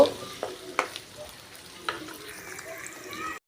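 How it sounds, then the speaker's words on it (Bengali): Onions frying lightly in a pan and being stirred, with a faint steady sizzle broken by a few distinct scrapes of the spoon against the pan. "পেঁয়াজটা দেওয়া হয়ে গেলে ভালো করে নাড়াচাড়া দিয়ে নিব এই পেঁয়াজটা হালকা একটু ভাজা হলে"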